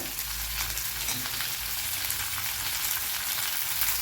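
Onions with capsicum frying in a pan for Tamil-style egg rice give a constant close sizzle and crackle, steady throughout with no voices.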